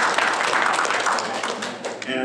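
A civic audience at a mayor's State of the City address breaks into applause, a dense, loud wash of many hands clapping that fades near the end as a voice begins speaking.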